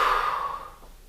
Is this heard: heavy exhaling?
yes